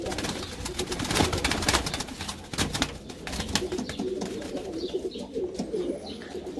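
Pigeons coo softly nearby with wing flutters and shuffling, a low murmuring backdrop of several birds.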